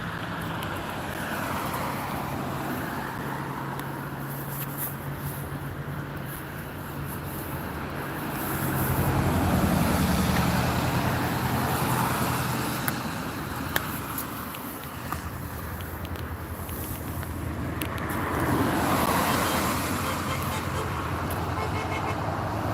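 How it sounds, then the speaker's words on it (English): Steady road traffic rumbles past with cars whooshing by, and a horn toots now and then through the constant noise. "The horns are constantly being heard as cars drive by."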